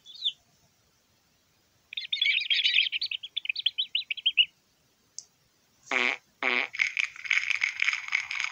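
Hungry cartoon chicks in a Peppa Pig game chirp in a rapid fluttering burst, then after a short pause give two sharp squeaky calls, followed by a steady run of high cheeping. No voices.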